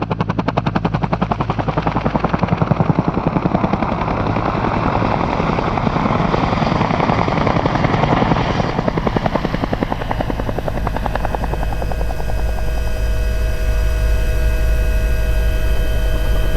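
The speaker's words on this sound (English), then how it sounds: "Turn the helicopter 270 degrees to show each side of the helicopter, thereafter moving backwards with a vertical climb." Bell Cobra attack helicopter flying an airshow display routine, its rotor chop loud and steady throughout, with the blade thump and turbine whine shifting as it turns and climbs backwards, no talking.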